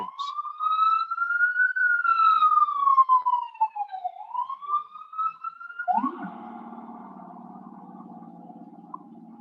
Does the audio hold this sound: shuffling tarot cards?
no